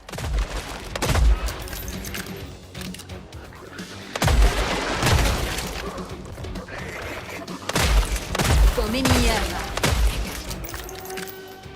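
Gunfire in the video game Killing Floor 3 bursts out in three heavy clusters of rapid shots and impacts, loud and close, with game effects in between and a voice talking over parts.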